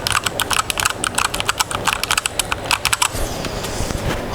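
Keys on a Stoga MK22 compact keyboard tapped at normal force, a steady stream of crisp, close clicks for about three seconds that then stops, leaving faint room noise.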